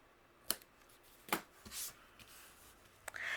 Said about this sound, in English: I do need to trim a little bit off here.